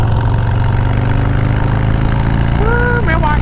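A motorcycle engine runs loud and close in a continuous steady drone, its pitch rising slightly near the end as it revs, with no gaps.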